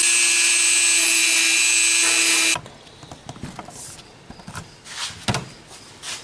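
A grinding wheel chamfers the edges of a cast copper or silver ring, giving a loud, steady high-pitched whine with a low hum for about two and a half seconds, then it cuts out, leaving faint clicks and handling noise.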